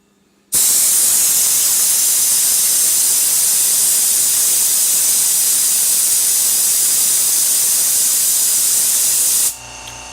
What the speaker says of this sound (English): the air compressor just kicked on